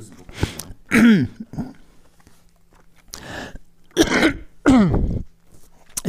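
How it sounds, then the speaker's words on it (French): Several rough coughs and throat-clearing bursts come in short clusters, close and fairly loud, separated by brief quiet gaps. "Oh, il tousse beaucoup."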